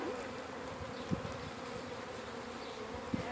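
Honey bees hum in a low, steady drone while being loaded into a hive, faint and continuous with a couple of soft knocks, no voices.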